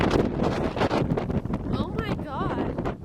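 Gusty wind roars across the microphone during stormy Florida weather while people talk over it, with a few brief chirpy sounds near the end.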